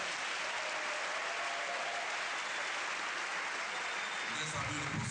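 A crowd at a tribute gathering in Côte d'Ivoire claps steadily and loudly, a dense continuous wash of applause throughout with no break.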